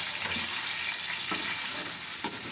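Ginger garlic paste hits hot oil in a pan for a Chinese pulao and gives a loud, continuous, even sizzle with a few faint scrapes, close up and without speech.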